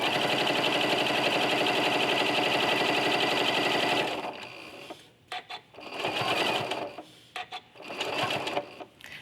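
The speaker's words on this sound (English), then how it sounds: "I'm going to stitch down my binding on the front of my quilt" Sewing machine stitching down binding on the front of a quilt, a fast, loud, steady mechanical whir for about four seconds, then short bursts of stitching with pauses between.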